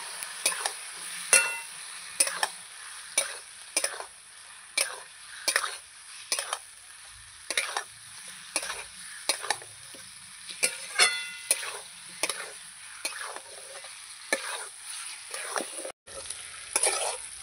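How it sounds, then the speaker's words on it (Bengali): Fish and capsicum being stirred and fried in a pan: repeated scraping strokes of a spatula at a steady rhythm over a constant sizzle, close and moderately loud, with no talking. "আমি নাড়িয়ে কষিয়ে নেব।"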